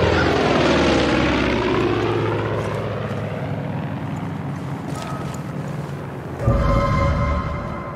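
Airplane engine in the Far Cry 5 video game, a loud continuous propeller drone that sweeps and shifts in pitch, then shifts abruptly to a harsher tone near the end, with no voices.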